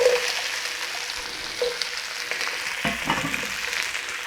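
Peppers, onions and garlic stir-frying in a wok for Chinese black bean sauce: a steady, close sizzle with occasional scraping stirs and clatters, no talking.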